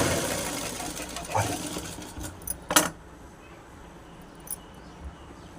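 A sewing machine stitches straight fabric strips together for a blouse hem, running in a steady close whir with a few sharp clicks and knocks along the way.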